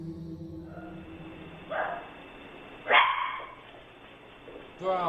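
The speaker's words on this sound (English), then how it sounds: "You can see and hear the two dogs running and barking" Two dogs run and bark on low-quality night footage, a few sharp barks spaced apart over a humming, muffled background, with a voice talking faintly.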